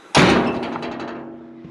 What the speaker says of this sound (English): Gotta slam the door on it.